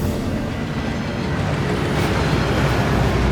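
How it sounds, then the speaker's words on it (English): Thief's Downfall, the waterfall at Gringotts in Hogwarts Legacy, pours in a dense, steady roar of rushing water, loud and close, with no pauses or change across the clip. "That waterfall washes away all enchantments"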